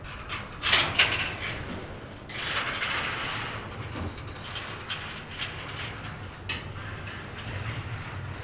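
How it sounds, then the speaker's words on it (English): A freight train in Winslow, Arizona begins to move, with metallic clanks and squeals from couplers, a low rumbling drone and scattered knocks, heard at a moderate distance and fairly quiet overall. "The train just started moving."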